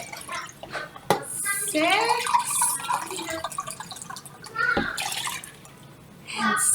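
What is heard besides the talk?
water filling a pitcher for lemonade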